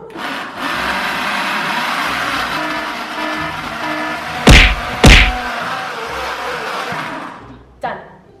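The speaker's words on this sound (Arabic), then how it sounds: "نفتح الخلاط ونخليه يخلط" A kitchen blender whirs steadily while mixing fruit such as pomegranate and mango, with two sharp knocks midway and a final thud as it stops; people talk over the motor.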